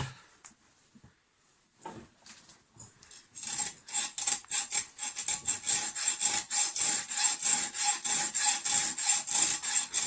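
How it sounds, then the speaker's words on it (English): A hacksaw with its blade fitted the wrong way round cuts into metal held by hand, with no vise. A few tentative scrapes come first, then a close, rapid, rhythmic rasping of steady strokes. "Somebody's put the blade on this hacksaw the wrong way round."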